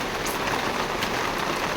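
Heavy rain pours steadily outside a bangle shop in Mysuru, a dense, even hiss of drops drumming on surfaces, close and continuous with no voices.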